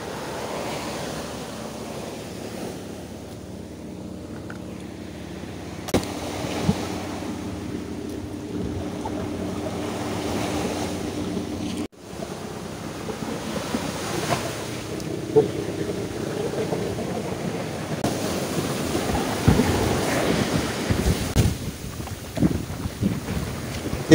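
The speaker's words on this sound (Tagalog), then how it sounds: "Tingnan mo yung alon guys." Ocean waves and surf rolling in, a steady broadband wash with rising and falling swells and gusty wind buffeting the microphone, growing louder and busier in the second half.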